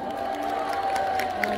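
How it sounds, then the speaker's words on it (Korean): A concert crowd at a live show in Jeonju, applauding and cheering together in a brief burst, heard at a moderate distance. "박수 한번 주세요"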